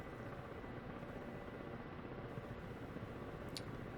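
Ka-50 coaxial helicopter in the DCS flight simulator, a steady, low rotor and engine drone throughout with a brief faint click near the end, no talk.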